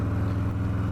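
A Harley-Davidson Low Rider S with a Milwaukee 8 V-twin pulls under throttle, a loud, deep, steady engine drone filling a single second.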